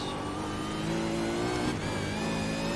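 V8 Supercar race cars in the iRacing simulator at Oran Park, engines droning and revving steadily at close range, with a brief dip and gear change partway through.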